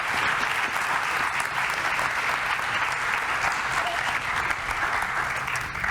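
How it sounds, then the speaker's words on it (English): A room full of people claps continuously for several seconds, a dense, steady round of applause with no voices standing out. "You may applaud."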